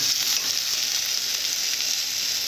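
Potatoes for a potato and okra curry fry in hot oil with a steady, close, bright sizzle that holds at an even level throughout, with no voices.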